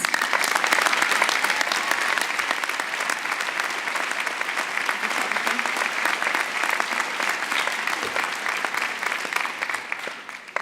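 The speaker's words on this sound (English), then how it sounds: "let's give him a round of applause." A master's commencement audience at Chico State gives sustained, loud applause, with dense crisp clapping that holds steady for about ten seconds.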